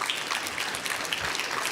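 Brief, steady applause from an audience at a trade fair industry stage for speaker Sini, a dense even wash of clapping with no clear individual hits.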